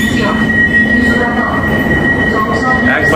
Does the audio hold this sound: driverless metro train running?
yes